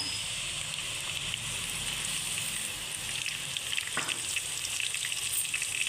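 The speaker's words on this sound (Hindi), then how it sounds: "ऑयल के अंदर हम ये प्याज वाला डाल देंगे जो हमने पेस्ट बनाया था" Onion paste sizzling steadily in hot oil for a creamy chicken karahi, a continuous hiss and crackle with no talk over it.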